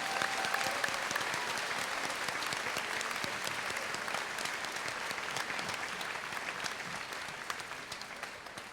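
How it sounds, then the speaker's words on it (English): Sustained applause from a graduation audience honoring four middle school students, dense steady clapping from a large crowd that holds at an even level throughout. "One last round of applause for these four students"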